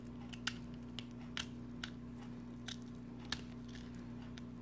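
Knife cutting through the exposed bone of a whole snapper, a few sharp crunching snaps spaced irregularly, close and distinct over a steady low background hum, with no talking.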